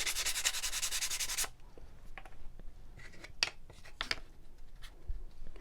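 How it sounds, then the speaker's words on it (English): Sandpaper is worked lightly over a wooden shiplap platter. It opens with a dense, steady burst of rubbing, then trails into scattered short, scratchy strokes. "So I'm just lightly going over all of these. You can sand as heavy or as lightly as you want."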